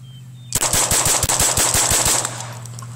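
A rapid string of about a dozen gunshots rings out from magazines loaded with Federal bulk ammunition, loud and close, with evenly spaced sharp cracks that end abruptly and leave a faint ringing tail.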